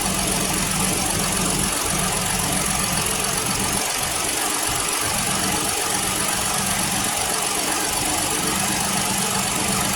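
A 2017 Ford Explorer Police Interceptor Utility engine idles steadily up close after a spark plug and coil replacement, a continuous even hum with a brief rise in revs partway through.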